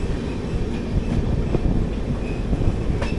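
Garib Rath Express (22883 Puri–Yesvantpur AC train) rolling along the rails, a steady broadband rumble of wheels and carriage with faint, occasional clicks, continuous and moderately loud throughout with no talking.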